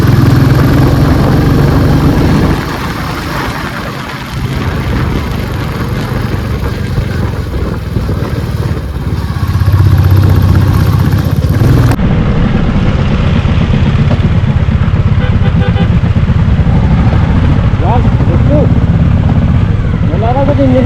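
A motorcycle engine hums and rumbles steadily throughout a mountain off-road ride, loud and close, with shifting wind and road noise and a change in tone partway through. Someone speaks over it at times.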